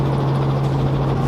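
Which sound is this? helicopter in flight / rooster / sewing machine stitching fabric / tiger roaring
helicopter in flight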